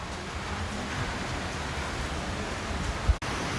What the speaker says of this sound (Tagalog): Malakas na po yung ulan dito